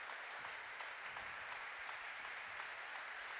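A crowd applauds steadily in a basketball arena during a women's play-off semi-final as an injured player is helped off the court, a dense, even wash of clapping heard from a distance.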